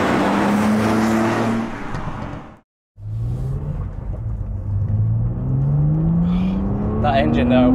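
A BMW Z4 Coupe E86 3.0si straight-six runs with a loud, steady rumble that rises in pitch as it revs, briefly cutting out before returning; a voice talks over parts of it.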